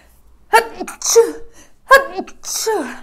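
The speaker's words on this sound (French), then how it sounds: "je vais éternuer en fait" Two sneezes in a row, the first a quick build-up and burst, the second following about a second later, close and fairly loud.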